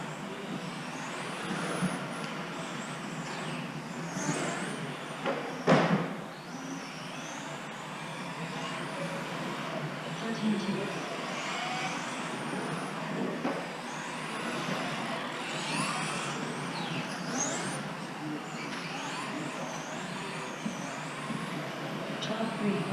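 Tamiya TT-02SW radio-controlled touring car running laps, a continuous buzzing motor whine rising and falling with throttle, with one brief sharp burst near six seconds, no one talking.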